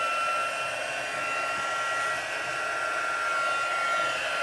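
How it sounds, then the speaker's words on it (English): A steady, loud whooshing roar of hot air blowing from a heat gun with a faint whine, constant throughout and close by. "I'll take my heat gun. It's going to get a little noisy."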